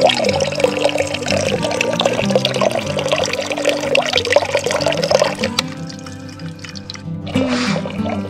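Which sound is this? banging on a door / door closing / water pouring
water pouring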